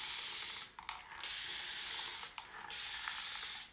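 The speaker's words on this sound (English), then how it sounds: "have one of those little fancy water bottles where if you like pump it 1 or 2 times, it'll just keep spraying" A continuous-mist water spray bottle sprays hair in two long hissing bursts separated by short gaps, close and clear, with no talking.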